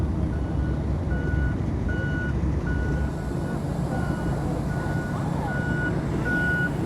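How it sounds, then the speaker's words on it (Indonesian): A snow-clearing truck's reversing alarm beeps in a steady, evenly spaced series over a constant diesel engine rumble close by, with no voices. "Ini kendaraan pembersih salju."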